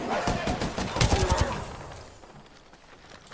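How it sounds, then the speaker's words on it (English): Gunfire in a video game, a burst of sharp overlapping shots around the first second and a half that fades into quieter background noise. "I heard more gunfire."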